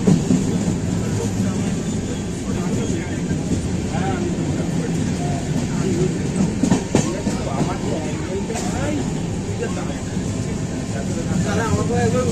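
Darjeeling Mail train running on tracks near Bardhaman Junction, a steady loud rumble and rattle heard from inside the carriage with faint clicks of the rails, continuous throughout with some background voices.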